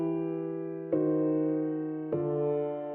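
Sustained chords moving through a jazz-style progression with a tritone substitution and secondary two-five-one, three chord changes each ringing out alone with a soft attack.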